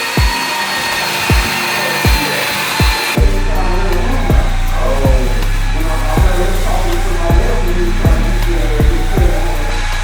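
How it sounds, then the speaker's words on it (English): An electric sander runs continuously on drywall walls in a newly built home, a loud steady motor drone with a regular thudding pulse, starting quieter and growing fuller after a few seconds. "when you got an electric sander, it gets the job done fast and it gets the job done right"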